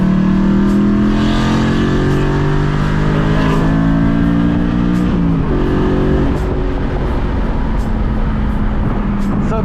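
A loud, close BMW E92 M3 engine revs hard in the rain, pitch climbing steadily to a high whine at its 8,000 RPM redline before dropping and revving again.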